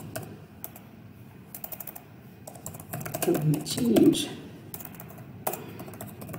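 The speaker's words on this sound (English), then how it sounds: "I'm typing fast." Rapid clicking of computer keys in quick bursts, close up, with a person speaking briefly over the typing.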